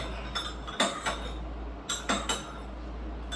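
A weight-loss drink is stirred in a glass, with several light clinks of a spoon against the rim arriving in small clusters over a quiet, low hum.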